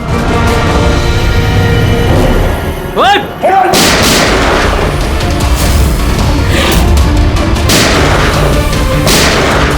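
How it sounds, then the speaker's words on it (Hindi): Gunshots ring out in a TV crime serial shootout, loud sharp reports and booming blasts filling the scene, with a brief shouted voice in the middle. "ऐसी गोली चलाते रहो तो बहुत देर हो जाएगी सर"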